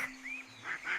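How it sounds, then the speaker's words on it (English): A duck gives a few soft, nasal quacks that sound in separate short bursts from a faint, fairly distant spot, with a low steady hum behind them. "A little duck with feathers bright quacks for joy from morning to night."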